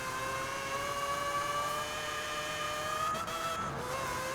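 A quad-rotor swapped S1-class Mazda RX-7 in Forza Horizon 4 holds a steady high engine drone with layered harmonic whine, running continuously and fairly loud with only slight pitch shifts and no talk.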